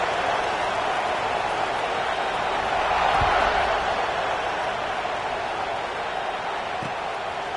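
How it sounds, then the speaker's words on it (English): A stadium crowd buzzing during an LSU college football game after a score: a broad, steady wash of distant crowd noise holding at an even level throughout. "this crowd is buzzing after that last score"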